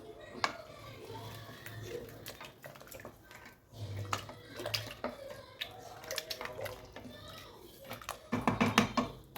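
Seeraga samba rice is stirred into chicken in a pot, giving soft scraping and clinking of a utensil against metal with wet, sloshing bits. It sounds close but quiet, in irregular strokes that grow busier toward the end.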